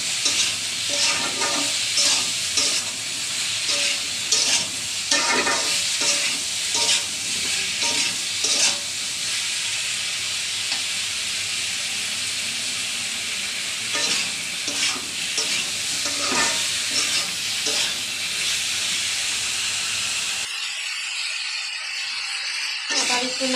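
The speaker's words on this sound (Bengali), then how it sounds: "আবার একটু নাড়াচাড়া করে নেব" Prawns and whole slit green chilies fry in a pan with a loud, bright sizzle while a spoon stirs and scrapes in uneven bursts. The sizzle runs for about twenty seconds, then cuts to a quieter hiss.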